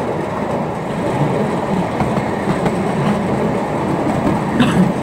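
A gravity train coasts downhill on the narrow-gauge Ffestiniog Railway with a steady, loud rolling rumble and clickety-clack of wheels on rail, heard from on board. Faint squeals rise near the end.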